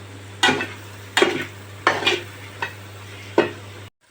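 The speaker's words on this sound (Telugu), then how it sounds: "మీడియం టు లోలో పెట్టుకుంటూ దీన్ని కంటిన్యూస్గా ఇలా తిప్పుతూ ఉండాలి" Tamarind leaf curry is stirred in a pan over medium-low heat, five distinct scraping strokes of a spoon against the pan at a slow, even pace above a faint sizzle and low hum, ending abruptly.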